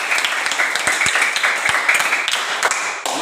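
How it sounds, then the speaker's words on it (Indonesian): A small group of students in a classroom claps together, brisk and fairly loud, with a few sharper individual claps standing out before it fades. "Sekali lagi tepuk tangan dulu."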